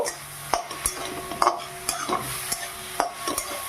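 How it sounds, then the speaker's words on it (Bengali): Softened leafy greens with peanuts are stir-fried in a pan, a spatula tapping and scraping at a steady pace over a low continuous sizzle; close, with no one speaking. "এইভাবে কিছুক্ষণ আমি নেড়ে চেড়ে এটা এইভাবে ভেজে নেব"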